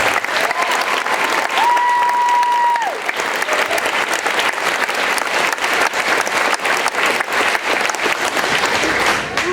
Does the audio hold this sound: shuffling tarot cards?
no